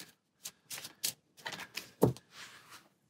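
Cards for a DC deck-building game being shuffled back into a deck, a short run of quick riffling and rustling bursts up close, with no talking.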